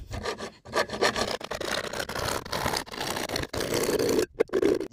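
A blade saws through PVC pipe with steady back-and-forth rasping strokes, close and fairly loud, with a few brief pauses between strokes.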